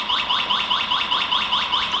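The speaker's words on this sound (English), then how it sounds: "If you double tap, it will also engage the alarm. The alarm will sound if it notices a disturbance," Anti-theft alarm on a 45 mph electric bike, a loud warbling electronic siren that repeats in quick regular cycles about every quarter second, heard alone and close up.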